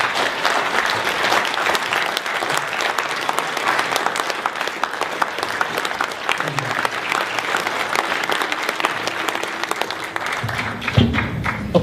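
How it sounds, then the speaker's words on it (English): Strong round of applause from an audience greeting Dhoruba Bin Wahad at an event on police terrorism, loud and sustained dense clapping for about ten seconds before fading out near the end. "I want y'all to give a strong round of applause for our good brother,"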